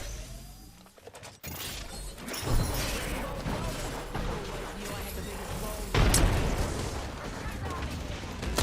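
A frag grenade detonates in the battle royale game Apex Legends, a sharp blast and shattering crash followed by a second heavy boom amid scattered gunfire, with a voice talking over the action.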